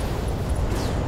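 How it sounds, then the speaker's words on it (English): Ammo explosion of a destroyed mech in the BattleTech video game, a loud, dense rumbling blast that fills the whole second with sustained low roar and crackle. "Ammo explosion, nice."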